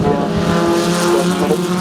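Formula Sheane race cars at Kirkistown circuit, a loud, close, sustained engine howl with shifting revs throughout the brief moment, with no talk over it.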